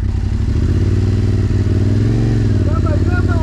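Yamaha MT-07 motorcycle being ridden, a loud, steady, close engine drone with a rumbling low tone and slight pitch shifts, with faint voices near the end.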